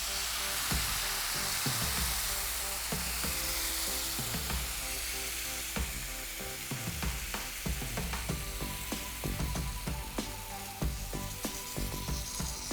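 Egg curry masala frying in a pan sizzles as soaked tamarind water is poured in, with a steady hiss layered over repeated clicks and scrapes.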